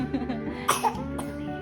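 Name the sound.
coughing fit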